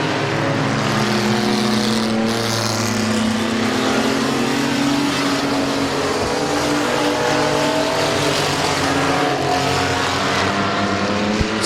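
Race cars roaring around Midvale Speedway, engines rising and falling in pitch as they lap and pass, loud and continuous with no talk over them.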